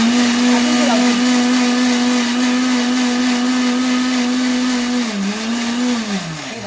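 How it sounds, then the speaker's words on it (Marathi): A kitchen mixer grinder whirs loudly and steadily while blending strawberry juice, holding one continuous motor tone that dips briefly near the end as the load shifts, running alone without talk. "पहिलं काय करायचं मिक्सर घुमवून घ्यायचं आहे"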